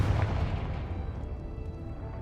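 Confringo fire spell blast in the video game Hogwarts Legacy: one deep booming burst at the start that rumbles on and fades over two seconds, no talk.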